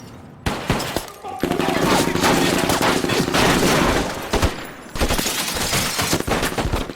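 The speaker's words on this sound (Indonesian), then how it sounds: "Baku tembak pun terjadi" Shootout in a crime film about a Mexican drug lord's house, with dense bursts of automatic gunfire and rapid shots rattling continuously for several seconds, loud and chaotic, briefly easing before another volley.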